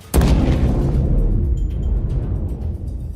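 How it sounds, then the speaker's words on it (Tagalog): A house blows up in one loud, sudden blast that rolls into a long, deep rumble and slowly fades, with no voices. "bigla na lang may sumabog ng malakas mula sa isa sa mga bahay"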